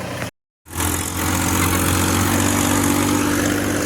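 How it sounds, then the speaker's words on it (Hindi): A tractor engine runs steadily and loudly close by after being pulled free from where it was stuck, a continuous droning rumble that resumes after a brief dropout near the start. "હા ગાઈસ, જો આ ગયા ટ્રેક્ટર"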